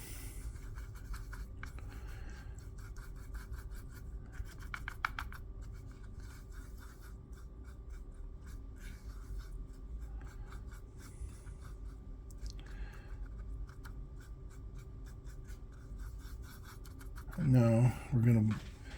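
A half-inch angle brush swirls and scrubs paint on a tray in a soft, continuous scratchy rubbing, close and quiet, with a brief louder burst of voice near the end.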